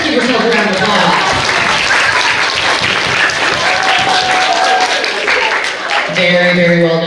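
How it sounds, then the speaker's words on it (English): Loud, steady applause fills an elementary school music performance hall for grades five and six, with voices talking and calling out over the clapping throughout. "Let's give yourselves a round of applause."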